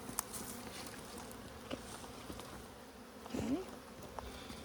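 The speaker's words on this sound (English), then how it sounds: "Oh, I got baby bees." Honey bees buzz at an Alaska apiary during a hive check, a steady insect hum with a few louder passes close by, while a person speaks briefly.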